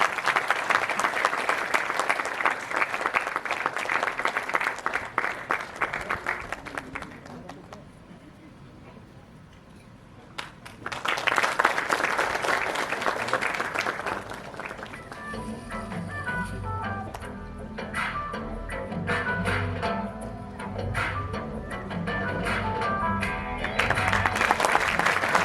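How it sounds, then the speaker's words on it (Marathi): Sustained audience applause breaks out at a Marathi indie music award night, loud and dense, dipping briefly before surging again as music begins underneath. "जोरदार टाळ्या झाल्या पाहिजे."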